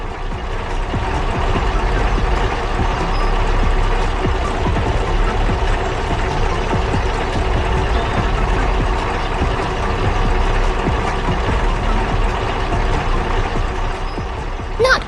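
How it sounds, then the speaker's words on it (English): A bright red tractor in a 3D construction cartoon chugs steadily with a loud, continuous engine rumble, heard alone throughout with faint mechanical clanks and rattles. "That tractor is working hard, maneuvering steadily around the bend to reach the fields."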